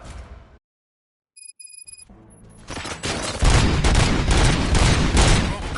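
Gunfire in RoboCop: Rogue City on PS5 builds from scattered shots after a silent gap into a loud, continuous barrage of rapid shooting and booms, close and dense to the end.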